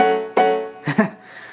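A few piano notes sound and cut off short, each tone stopping dryly rather than ringing on, with a brief pause between the phrases.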